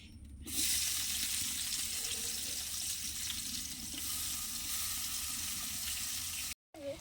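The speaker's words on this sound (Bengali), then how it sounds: "দেখুন পেঁয়াজটা কিন্তু আমি দিয়ে দিয়েছি আর এই রান্নাটা কিন্তু আমি সর্ষের তেলেই করছি" Onions frying in mustard oil for a snail curry give off a loud, steady sizzle that runs almost unbroken close by, with a brief cut near the end.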